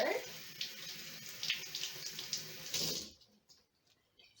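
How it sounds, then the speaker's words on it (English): Tap water runs into a jar to rinse sprouts, a steady splashing pour that cuts off abruptly after about three seconds, leaving near silence. "So fill in with water."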